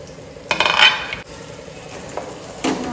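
A metal lid set onto a pot of cooking tomatoes, a bright clattering clink near the start followed by a quieter scrape and a second light knock, close against a faint background sizzle.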